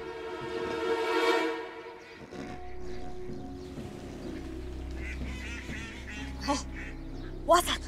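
Ducks quack and honk during a duck hunt, several bursts of calls coming close and loud, while people talk quietly nearby.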